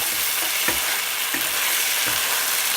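Beef pieces frying in a pan for a beef and broccoli stir fry hiss steadily and loudly, with three distinct stirring scrapes spaced through the sizzle.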